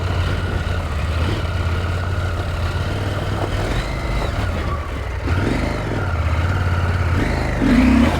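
Off-road adventure motorcycle engine revving hard as the rider pops a wheelie over a rut, loud and continuous with rising and falling throttle surges near the end, steady rumble underneath throughout.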